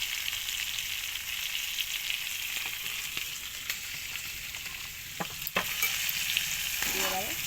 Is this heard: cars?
no